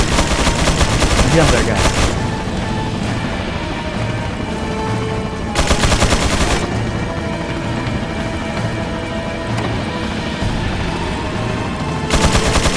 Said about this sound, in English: Someone else is shooting now.